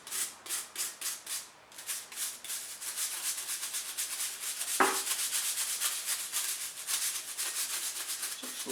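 A brush scrubs rust off a steel SN95 spindle for a 1985 Mercury Capri in close, rhythmic back-and-forth strokes, pausing briefly once, with a single sharp knock midway.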